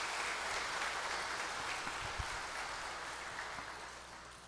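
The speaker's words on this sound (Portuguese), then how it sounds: "Uma salva de palmas aí para eles" Applause from a congregation during a church service: a soft, faint wash of steady clapping that fades slightly toward the end, with no voices over it.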